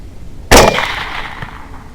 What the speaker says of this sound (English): Here you may need earphones to hear the impact.